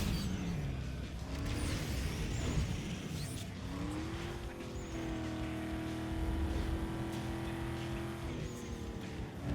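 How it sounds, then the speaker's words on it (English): Engine of an SUV with a four-speed automatic racing fast in Need For Speed Underground 2, a steady droning rev that climbs in pitch through the gears and holds high, with occasional tire noise over a busy game mix. "And it goes so fast with this 4-speed auto."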